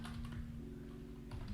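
Close, quiet clicking of a computer keyboard that is acting up a bit, typed on in quick, uneven bursts over a steady low electrical hum.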